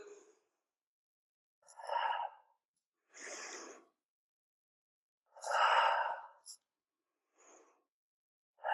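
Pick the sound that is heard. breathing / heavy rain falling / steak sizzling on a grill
breathing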